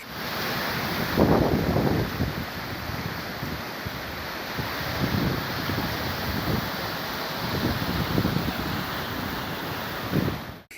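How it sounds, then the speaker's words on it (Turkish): Taşkale Creek in Sincik, Adıyaman, flooded by heavy rain, roars in a loud, steady rush of turbulent water with gusty wind buffeting the microphone, and no voices. "Taşkale Deresi şiddetli yağış nedeniyle taştı"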